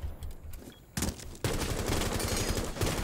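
Rapid bursts of gunfire in Rainbow Six Siege, shots coming from the rafters, loud and close, a dense automatic spray building after a brief lull.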